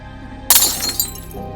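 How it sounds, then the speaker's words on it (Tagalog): A window's glass shatters suddenly in a sharp, bright crash, with a second smaller burst of falling shards a moment later, loud and close as a horror-story sound effect. "biglang nabasag ang isang bintana"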